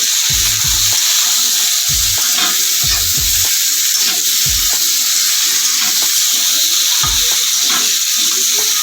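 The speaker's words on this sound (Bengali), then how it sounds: "সবজিটা নেড়ে ছেড়ে আমি একটু ঢাকা দিয়ে দেবো।" Vegetables including potato, pointed gourd and pumpkin sizzle loudly in a pan and are stirred, with a constant bright hiss broken by repeated low scraping knocks of the spoon against the pan.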